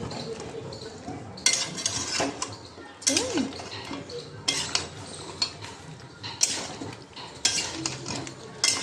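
A spoon scrapes and clanks against a pot as potatoes are stirred into chicken before pressure cooking, giving bursts of metallic knocks and scrapes in an irregular rhythm with a light sizzle beneath.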